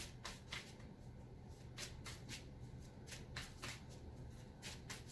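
Cards riffle and snap together in quick repeated bursts, close and crisp, with a soft background hum and no voices.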